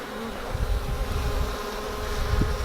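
Dense, steady buzzing of many honey bees close by during an open hive inspection, a continuous droning hum with no voices.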